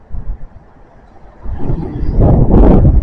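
A strong wind roars over the microphone, starting softly and swelling into a loud, rumbling blast in the second half.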